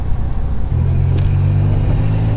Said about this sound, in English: Yes, I said rev limiter.